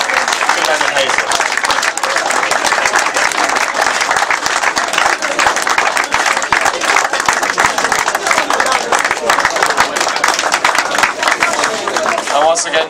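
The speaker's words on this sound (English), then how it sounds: "Let's have a big cheer, please, for Steve Webb as he presents those to Len and Hazel." Crowd at a speedway riders' presentation night cheering and clapping loudly, a continuous rush of many hands with crisp individual claps close by and a few voices mixed in.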